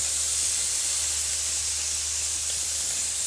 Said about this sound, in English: Give them a quick spray with the olive oil.